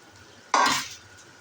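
Fried okra tipped into a pot of spiced meat curry: a single short burst of sizzle and clatter near the middle, loud at first and then fading over half a second against quiet kitchen background.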